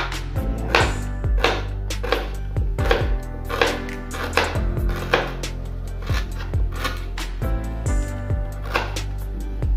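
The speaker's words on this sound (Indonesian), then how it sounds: "Sekarang saya potong-potong jahe dulu" A knife chops ginger for a natural cough remedy, striking a board in a steady series of sharp, close, fairly loud taps with no talking.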